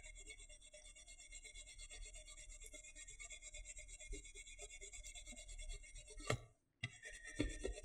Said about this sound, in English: So all we're doing is we're just polishing the surface. Making it as flat as we can.